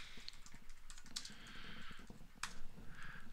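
Rapid typing on a computer keyboard, a quick run of close, light key clicks entering a search, with no voices.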